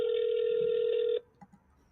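A telephone gives a steady, unbroken tone of just over a second while a call is placed. It cuts off abruptly, and a couple of faint clicks follow.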